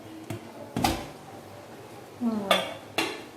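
Pot lid clatters open on a pan of freshly cooked Etalappam after the gas is turned off, a few sharp metallic clanks and scrapes of cookware close by, no talking.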